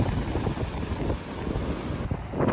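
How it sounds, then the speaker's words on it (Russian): Wind roars across the microphone over the heavy rumble of Atlantic Ocean waves on the New England coast, continuous and loud, with no voices. "Какие мощные волны. Ветер свежий, соленый, океанский."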